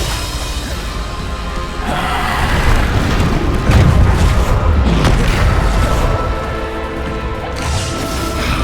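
Loud, sustained blast from the Bombarda spell in Hogwarts Legacy on PS5, a booming explosion that swells around the middle and rumbles on beneath continuing battle noise.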